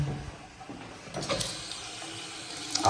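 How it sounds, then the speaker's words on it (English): Hot water runs steadily from a tap during a walkthrough of a house that has sat unused for a couple of weeks, a continuous broadband rush with no talking over it. "I have the hot water on right now and it's pretty hot, so water pressure is pretty good"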